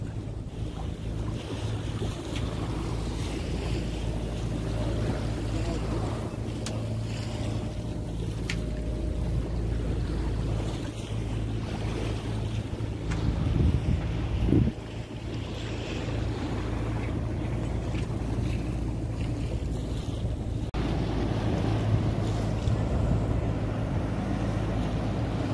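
Motor yacht out at sea on a fishing trip, with a low steady engine hum under gusting wind buffeting the microphone and waves washing against the hull, plus occasional knocks and splashes.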